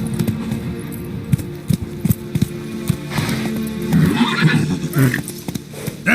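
Roach the horse in The Witcher 3 video game whinnies and trots, with close hooves clip-clopping in an uneven rhythm alongside jingling tack.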